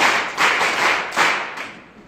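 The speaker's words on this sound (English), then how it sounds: "Clap for yourself." An audience at a talk for young women claps for themselves in several uneven, swelling bursts of hand clapping, fairly close and loud with no speech over it.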